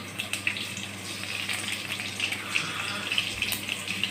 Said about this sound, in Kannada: ಬೆಳ್ಳುಳ್ಳಿ ಒಂದು ಸ್ವಲ್ಪ ಫ್ರೈ ಆದಮೇಲೆ ಇವಾಗ ಸಾಸಿವೆ ಹಾಕ್ಕೊಳ್ಳೋದು.